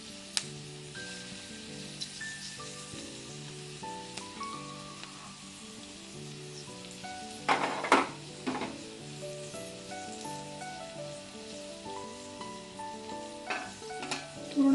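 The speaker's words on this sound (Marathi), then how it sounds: "तेल जरा जास्ती टाकलं, कारण व्यवस्थित तळलं पाहिजे ना आतून बाहेरून." Fish roe (gaboli) frying in plenty of oil in a pan, a steady close crackling sizzle throughout with a few louder bursts of spitting oil midway and near the end, no voices.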